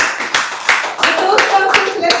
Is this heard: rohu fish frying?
no